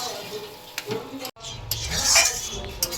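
A spoon stirring mixed vegetable curry in a pan, with scraping clinks against the metal and a soft sizzle, close and moderately loud, briefly cut near the middle.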